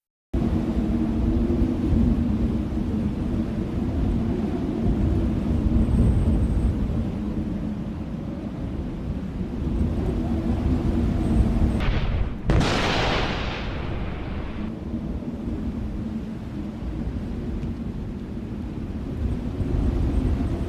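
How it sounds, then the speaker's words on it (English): Deep thunder from a supercell thunderstorm over the Great Plains, a steady low rumble throughout with a sharper, louder crack near the middle before the rolling resumes. "A hauntingly beautiful supercell thunderstorm captured in a time-lapse"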